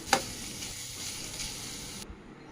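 Cut carrots fry with curry leaves, onion and chili, opening with a sharp clack of a utensil before a short burst of steady sizzling that cuts off abruptly after about two seconds.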